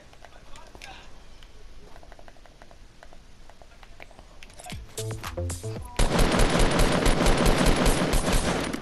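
Gunfire in the Fortnite video game: scattered shots and rapid bursts build up, then a dense, loud barrage of shooting takes over near the end.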